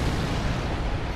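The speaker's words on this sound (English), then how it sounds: "Okay, that was a big explosion." A big explosion in the Bloodborne video game: a dense, loud broadband roar with heavy low-end rumble that holds steady for just over a second with no voices.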